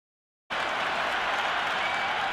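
A cricket crowd at a Big Bash T20 match between Hobart Hurricanes and Melbourne Stars bursts into sustained cheering and applause, a dense roar starting abruptly and holding steady.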